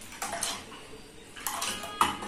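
Brief bursts of whisking Kashmiri pink tea in a pot, clinking metal against metal in two or three quick flurries, close and moderately loud.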